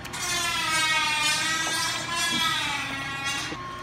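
A loud, harsh whining grind of a power tool cutting plastic or Lexan, sustained and shrill with strong overtones, running continuously.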